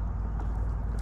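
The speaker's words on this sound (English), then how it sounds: "I love this new motor on this kayak, man. It makes it a lot easier." A new Bixby motor drives a kayak on a trotline crabbing run, giving a steady, close, low droning rumble with no talk over it.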